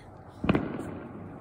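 A single New Year firework pops outdoors at a distance, one brief muffled crack over quiet background hiss.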